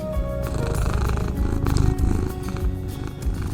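An orange cat purrs close up in a continuous rumbling rhythm, loud and steady, with some faint background noise.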